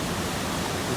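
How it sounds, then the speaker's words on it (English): Spring water pours out of a hillside near a cave at an Indiana mill site, a steady, close rushing hiss with no breaks or voices over it. "All the water is coming out of that hillside."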